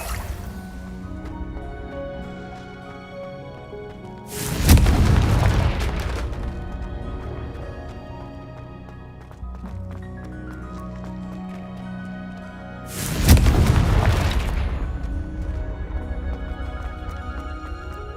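Two loud booming blasts of the Confringo fire spell in Hogwarts Legacy, each a sharp explosive crack followed by a roaring decay, about eight seconds apart over quiet game ambience and soft music.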